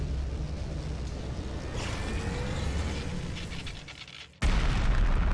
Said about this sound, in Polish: Ło kurde, jaki wybuch.